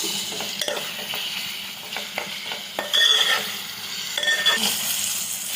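Onion fries in a pan with curry leaves and ginger garlic paste, giving a close, continuous sizzle. Stirring scrapes and small utensil clinks against the pan break through at intervals.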